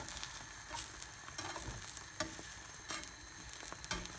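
An omelette sizzles softly in a frying pan as it is pushed around, a faint continuous crackle with light scraping strokes and small taps, no talking.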